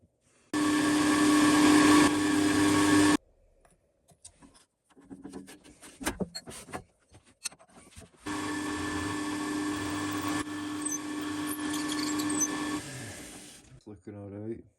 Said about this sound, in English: I want to drill a 10mm hole in this right through.